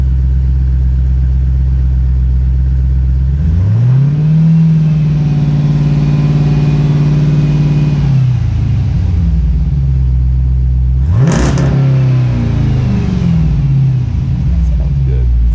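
A Jeep SRT fitted with an aFe Power exhaust idles with a deep rumble and then revs twice, the engine swelling and holding before dropping back, loud and close.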